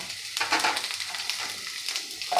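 Carrots, capsicum and beans hit a hot pan for hotel-style veg Kolhapuri, giving a short burst of crackling sizzle that swells, dips and rises again, with no talking.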